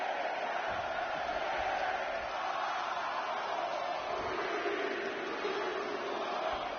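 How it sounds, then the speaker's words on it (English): A WWE 2K20 arena crowd chants and roars in a steady, dense wash of massed voices, counting along in a continuous swell, moderately loud and fairly distant, with no distinct single voice. "Listen to this crowd count the next one in."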